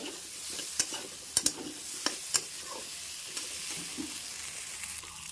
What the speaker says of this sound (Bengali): শুকনো লঙ্কা আর আদা বাটা একসঙ্গে দিয়ে দিচ্ছি ভালো করে কষিয়ে নেব